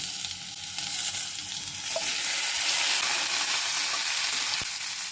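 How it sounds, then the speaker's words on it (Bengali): Potatoes sauté in a hot pan with tomato and ridge gourd, a steady close sizzle and crackle of frying with occasional stirring scrapes and no talk. "আলুটা একটু সটে ভেজে নেব।"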